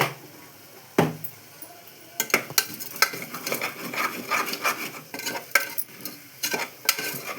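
A spoon scrapes and stirs chili powder through a thick snail curry in a pressure cooker, irregular rubbing strokes with faint sizzling underneath.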